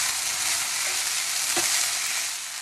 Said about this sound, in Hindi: तो साबूदाना को अभी मैं डाल दूँगी।